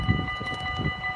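A train passes at Maasbracht: a steady mechanical hum with a few sustained tones over low, rhythmic rumbling thumps, fairly loud and close, with no talking.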